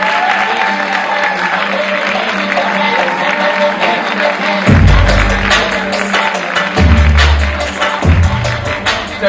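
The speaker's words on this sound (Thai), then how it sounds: "ขอเสียงปรบมือด้วย" Loud, sustained applause fills a press event for the Netflix series Sathu as the audience welcomes the series director, with a few deeper thumps and some voices mixed into the clapping.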